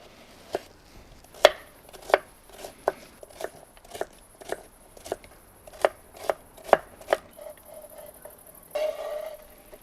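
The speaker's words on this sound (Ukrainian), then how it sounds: "тепер нарізай морку" A knife chops carrots on a board in about fourteen crisp, evenly spaced strikes, close and clear, with a few quicker cuts at the end.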